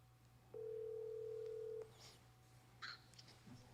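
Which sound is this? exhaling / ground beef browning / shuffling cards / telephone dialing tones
telephone dialing tones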